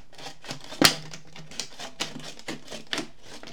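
Scissors snipping through a plastic bottle to cut away its bottom for a flower craft, one sharp loud cut followed by several quieter, evenly spaced snips, close by with no talking.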